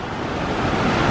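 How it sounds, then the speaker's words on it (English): A river rushes past the red sandstone Devorgilla Bridge as a loud, broadband roar of flowing water, steady and close throughout the brief stretch, with no voices. "I just hope you can hear me over this sound of the water"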